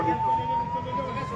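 An ambulance siren sounds as a steady rising wail, fairly loud and continuous, mixed with crowd noise and voices from an outdoor protest gathering near a hospital.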